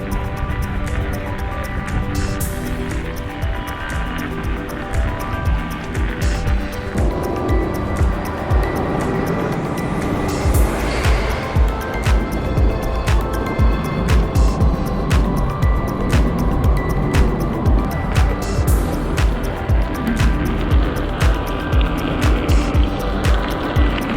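A GotWay Nikola electric unicycle is ridden outdoors with a steady motor hum and road rumble throughout, building after the first ten seconds into a rhythmic pulsing roll.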